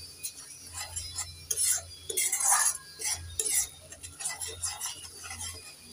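Fennel and coriander paste being stirred in a pan, with repeated metallic scrapes and clinks of a spoon against the pan in an uneven rhythm, fairly close, no talking.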